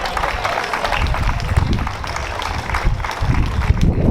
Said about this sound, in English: Big round of applause for Reliable for sponsoring.